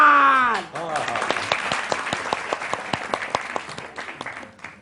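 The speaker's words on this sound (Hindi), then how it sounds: "इनके लिए बहुत सारी तालियां, बहुत सारी तालियां।" A studio audience on a morning television show breaks into dense, sustained clapping right after a voice finishes speaking, the applause continuing steadily and evenly before tapering slightly at the end.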